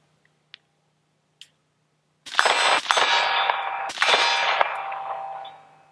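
An AR-15 fitted with a Griffin Armament Paladin suppressor fires a few muffled shots, each with a loud metallic clang and a ringing decay. Faint clicks come before the shots.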